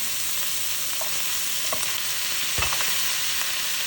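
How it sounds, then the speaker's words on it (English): Vegetables for veggie pasta dropped into a hot frying pan, a steady close sizzle and crackle with a few stirring scrapes and soft thumps, no voices. "I'm putting all my veggies in here now."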